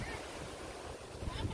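Strong wind gusts roar steadily across an open field where a large guryon kite is flown, a broad rushing blast with buffeting surges toward the end, no talking.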